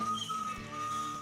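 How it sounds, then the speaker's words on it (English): A steam locomotive whistle blows in a steady held tone with a brief break, sounding fairly close and loud over a rumbling background, with no talking. "he's blowing his whistle an awful lot and wasting precious steam"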